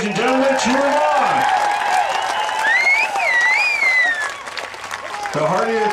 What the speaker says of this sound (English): Come on, cheer them on, ladies and gentlemen.